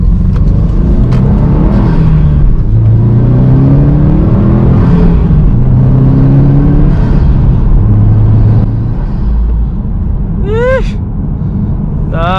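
A 2020 Subaru STI fitted with a Cobb intake accelerating through downtown Calgary from inside the car: a loud, steady rumble with engine notes climbing in pitch through gear changes, and a few sharp whooshing sweeps near the end.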